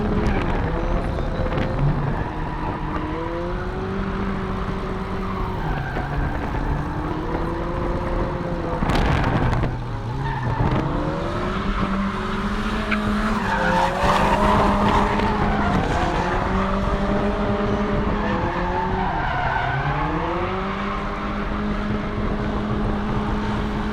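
A high-compression turbocharged KA24DE car drifts at a competition track, its engine revving and falling in repeated surges while the tires screech and skid continuously, loud and close throughout.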